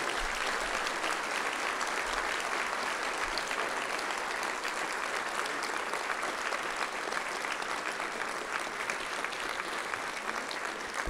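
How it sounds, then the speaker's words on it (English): An audience at a San Diego mayoral candidate forum applauds steadily, a sustained, even wash of many hands clapping with no break for the full stretch. "I think we should give all the candidates, now is the time, big round of applause."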